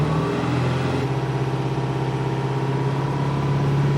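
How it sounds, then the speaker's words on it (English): A Mitsubishi Triton with the 4D56 common-rail diesel engine is brought up from idle to around 2000 RPM, settling into a steady, loud, close mechanical drone that holds without voices. "Let's bring it up to say 2000 RPM or close."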